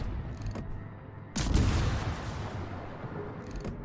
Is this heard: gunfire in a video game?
yes